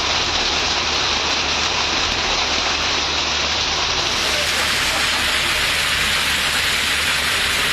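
A hailstorm pours down over the Thalavadi area of Erode district, a dense, unbroken roar of falling hail and rain that stays loud and even throughout.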